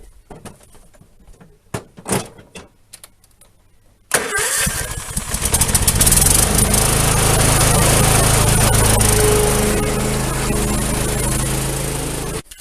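A ride-on lawn mower with a rusted deck cranks and catches after a few quiet knocks, then runs steadily and loud at close range, ready to cut an overgrown field.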